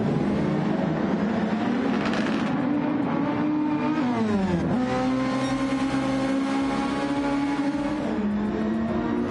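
Several open-wheel race car engines in a Super Formula racing game at Daytona, their steady high whine climbing and falling through gear changes as cars pass close, loud throughout.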